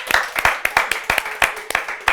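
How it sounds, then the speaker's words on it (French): Children are applauded by an audience at a community event, with irregular sharp hand claps coming in bursts over a murmur of voices and cheering. "On peut les applaudir bien fort."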